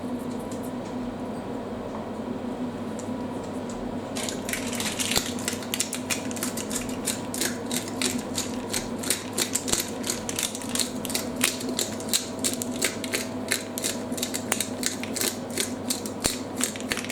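Salt and pepper ground by hand from a mill over a pot of lamb and pears, a steady run of fine rapid ratcheting clicks starting partway in and continuing close and crisp, no talk.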